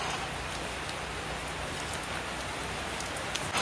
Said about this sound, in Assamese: এইফালে মাত্ৰ বৰষুণ দিয়া আৰম্ভ কৰি দিলে